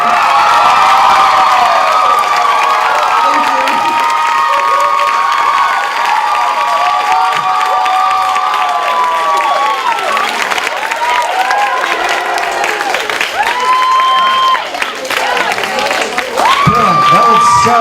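Audience at an open mic art night applauding and cheering after a song, a loud, dense wash of clapping with whoops and shouts that carries on steadily throughout.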